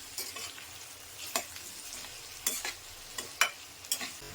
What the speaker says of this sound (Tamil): தக்காளி எல்லாம் வதங்கி வரணும்